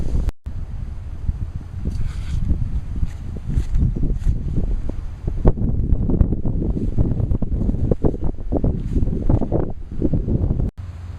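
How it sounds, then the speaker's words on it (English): Steady cold spring wind buffets the microphone with low rumbling gusts throughout, with no talking. "It's windy and cold out."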